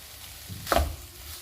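A spoon stirring minced chicken with tomato ketchup and green chillies in a hot pan, one brief scraping stir over a soft, steady sizzle, close and fairly quiet.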